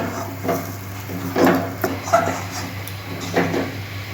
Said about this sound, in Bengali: এখন এটা নাড়তে থাকি।